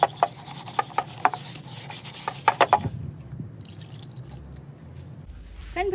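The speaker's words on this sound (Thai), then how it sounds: "ครบเวลาแล้วเรามาล้างทำความสะอาดกันได้เลยค่ะ" A burnt, blackened pan bottom is scrubbed up close in a series of rhythmic rasping strokes, followed by quieter wet rinsing and dripping water.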